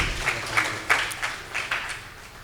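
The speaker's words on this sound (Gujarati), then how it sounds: "એમને ફરીથી એક વખત તાળીઓથી વધાવીએ." An audience at a devotional gathering applauds to welcome a speaker. The clapping is scattered and uneven, arriving in loose bursts of moderate loudness within a room.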